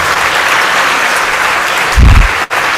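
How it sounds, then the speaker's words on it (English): Steady, loud applause from a large audience at a graduates' reception honouring the toppers, sustained throughout with a brief low thump near the end. "Please give another round of applause to all the toppers."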